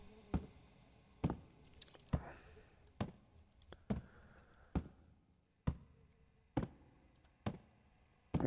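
Keys jangle repeatedly in the horror game Dread Neighbor, a run of sharp metallic rattles coming at roughly one-second intervals, each close and clear against a quiet, faintly humming background.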